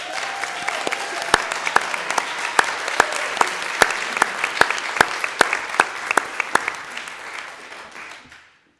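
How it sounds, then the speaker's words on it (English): Applause at a board meeting from a smallish room, steady clapping with a few sharp, distinct claps standing out and then fading to silence. "I'd like to ask our own Mr. Scott Bruckner to stand for applause."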